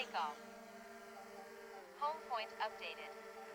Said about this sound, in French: je lâche, il met les moteurs en route